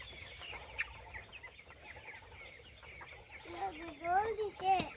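Chickens cluck and chatter close by, with short calls rising toward the end over a busy background of other birds.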